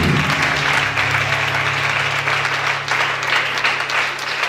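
Applause from a church congregation at a testimony service, a dense continuous wash of clapping from many hands, loud and filling the room for several seconds.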